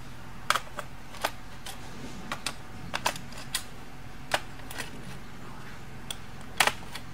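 Screws being loosened from a wooden watercolor board, a series of sharp isolated clicks and ticks spaced irregularly over a steady faint background hum, close by.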